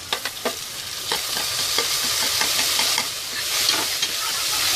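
Finely chopped tomatoes frying in oil for chana masala, stirred with a spoon that clacks against the pan in quick strokes over a continuous close sizzle, with no voices.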